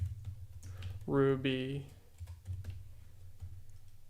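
Rapid clicking on a computer keyboard while programming, an irregular patter of light close key taps running throughout, with someone briefly speaking over it.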